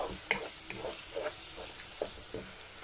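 Chicken keema with garlic-ginger powder fries in a pan, a faint sizzle under scattered soft scrapes and clicks as it is stirred, with no talking.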